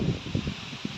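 Wind rushes through trees during Cyclone Biparjoy, a steady dense roar with rustling gusts and faint low buffeting close to the microphone.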